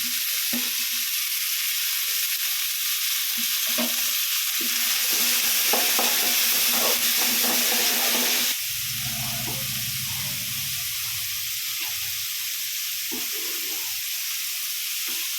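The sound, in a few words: tomatoes and green chillies frying in pan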